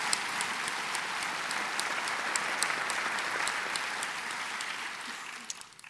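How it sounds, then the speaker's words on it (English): Audience applause for Lieutenant Governor Bob Duffy at a 2012 New York state budget presentation; a dense, sustained round of clapping from a large crowd, steady throughout and tapering at the very end. "Let's give him a big round of applause."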